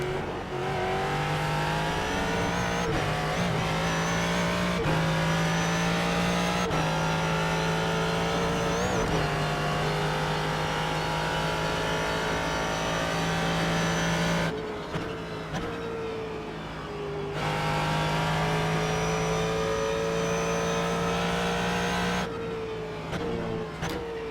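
A race car in the iRacing simulator roars with a loud, continuous engine note that climbs and drops through gear changes, with brief dips between shifts and some tire noise underneath.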